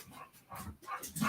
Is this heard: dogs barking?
yes